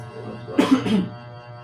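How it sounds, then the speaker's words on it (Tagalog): A short double cough, muffled and close, over a low steady background hum. "Inuubo naman ako eh"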